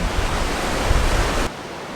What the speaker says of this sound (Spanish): De acá se ve el faro de Mazatlán, increíble. El hermoso Océano Pacífico.